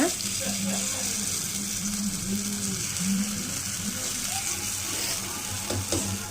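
Paniyaram batter sizzles and fries steadily in a pan kept on a low flame, a continuous close hiss with faint scraping and clinks of a utensil, with no talk over it.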